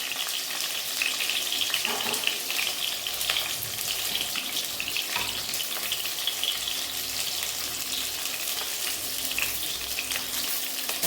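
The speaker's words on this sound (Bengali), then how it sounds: "হালকা একটু ভেজে নেব" Pointed gourd (potol) frying lightly with salt in an oiled pan over raised gas heat gives a steady, close sizzle with faint crackles and occasional stirring throughout.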